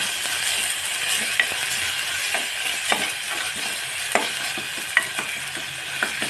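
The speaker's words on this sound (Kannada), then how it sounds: "ಟೊಮೆಟೊನು ಪೂರ್ತಿಯಾಗಿ ಫ್ರೈ ಆಗೈತಿ" Tomatoes frying in a pan, a continuous soft sizzle with scattered scraping and stirring clicks close by, no talking.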